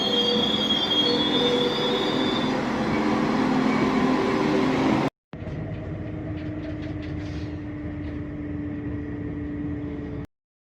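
Steady rumble and squealing wheels inside a moving passenger train carriage in Poland, heading to Duszniki-Zdrój, cutting out briefly midway before the loud rolling noise resumes, with no talking.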